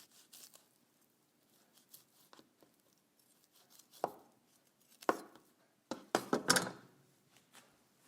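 A knife trims fat from beef short ribs with scattered soft cuts and scrapes, growing louder and busier toward the end in a quick cluster of close, sharp slices against a quiet background.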